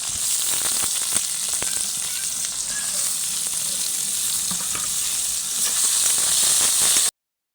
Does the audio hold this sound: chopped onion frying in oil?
yes